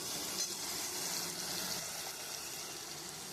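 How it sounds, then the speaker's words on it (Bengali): Masala spice paste frying in a pan, a steady, fairly quiet hiss and crackle of hot oil without pauses and no talking. "এই মশলাটা একটু কষিয়ে নেবো আগে"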